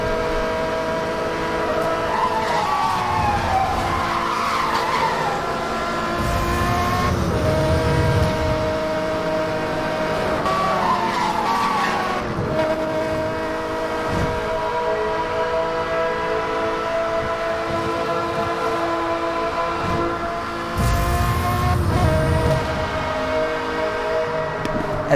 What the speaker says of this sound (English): Enjoy the sound of the Murcielago whilst we wait for the next one